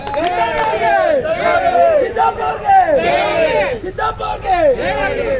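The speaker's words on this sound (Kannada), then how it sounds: "ಸಿದ್ದಪ್ಪರ್ ಒಂದ್ ಜೈಕಾರ ಹೇಳಿ ಎಲ್ಲಾರು." A crowd at an outdoor farmers' meeting chants a victory cheer for Siddappa in loud, repeated, rising and falling shouts, close and overlapping.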